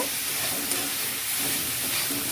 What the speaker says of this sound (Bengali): ওই কড়াইতে আমি দিয়ে দিচ্ছি নারকেল কোড়া চিনি মাখানো নারকেল কোড়াটা দিয়ে দিচ্ছি তো এখন আমি ভালোভাবে নেড়ে চেড়ে নেব